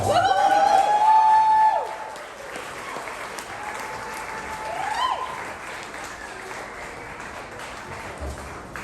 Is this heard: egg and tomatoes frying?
no